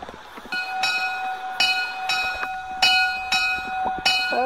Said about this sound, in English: There's the tram in the service here.